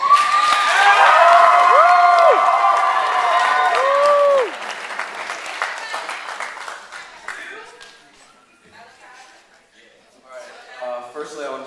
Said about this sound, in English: I think y'all better give him another round of applause.